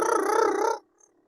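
A human voice imitating a bird's purr, a rolled, trilling 'purrr' held for most of a second before cutting off into near silence, close and clear.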